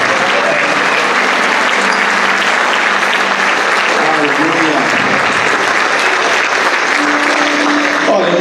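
Loud, dense applause from a church congregation fills the whole stretch without a break, steady and close, with faint voices and cheers mixed into the crowd noise.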